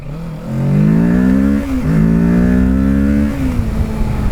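A 2024 Kawasaki Ninja 650 revs loudly up close while being ridden, its engine pitch climbing, dropping briefly at a gear change, then rising again and settling into a steady drone.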